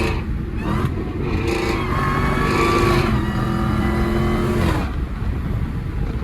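A Dodge Hellcat engine revs loudly up close with its hood off, the note climbing and surging through several seconds of hard acceleration, no talking over it.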